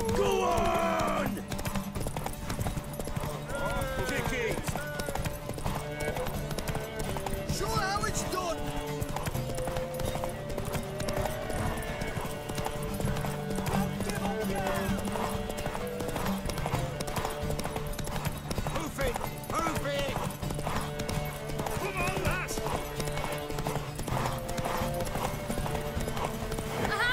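A horse clip-clops steadily through a game scene from The Witcher 3, under constant music and ambient noise. A neigh is heard now and then.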